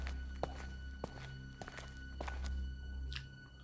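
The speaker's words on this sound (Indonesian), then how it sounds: "Tiba-tiba kedengar suara langkah kaki." Footsteps in a horror narration set on the 12th floor during a night shift: a series of distinct, irregular thuds and taps over a low steady hum, moderately close, with no voices.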